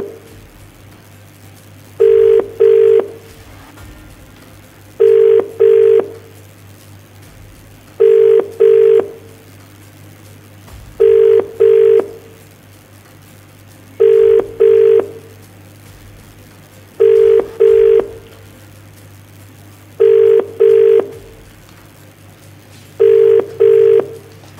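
An outgoing phone call rings unanswered, its ringback tone sounding as eight evenly spaced double rings about three seconds apart over a faint steady hum, with no voices.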